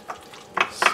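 A xoconostle salsa stirred in a bowl, giving two short, close scraping swishes in quick succession after a brief soft touch, with no voices.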